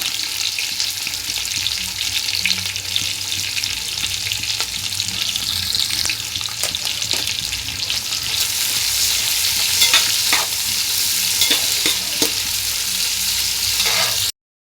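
Sliced onions frying in hot oil toward golden brown for chicken biryani, a loud, continuous sizzle with intermittent stirring scrapes, no voices.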